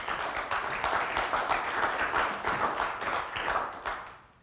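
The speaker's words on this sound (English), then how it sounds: "Please give him a very warm applause." A conference audience claps for a speaker at a talk on 5G media delivery, a moderately sized crowd giving a steady, slightly uneven round of applause that fades out at the end.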